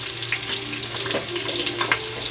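Chopped onions, a generous amount, fry steadily in a pan as the start of chicken tinola, giving a continuous close sizzle with small crackles and pops and no talk.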